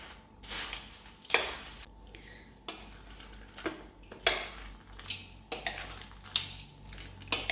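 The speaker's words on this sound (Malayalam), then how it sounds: "ഇനി എല്ലാം കൂടി ഇളക്കി ഒന്ന് യോജിപ്പിക്കാം." A masala puffed rice mixture with honey is stirred in a bowl, giving repeated rustling scrapes and light clinks of a spoon in an irregular rhythm, close and moderately loud.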